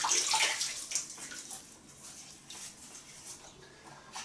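Water splashes and runs from a tap as a face is wetted for shaving, with irregular sloshing bursts that are loudest at first and then settle into lighter splashes, heard close with no talking.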